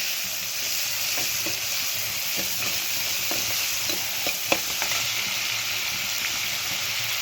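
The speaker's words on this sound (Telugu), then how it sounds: "వీటిని ఇలాగా వేయించుకోవాలి." Two large onions frying in a pan give a loud, continuous sizzle, with light scraping knocks as they are stirred.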